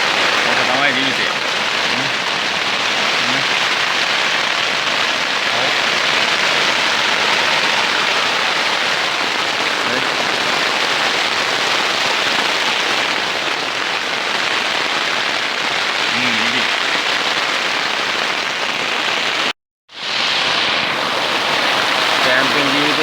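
Heavy rain pours down with gusting wind at a mountain campsite in Salalah, a dense, constant hiss and patter close by that fills the whole stretch, with a brief cut near the end.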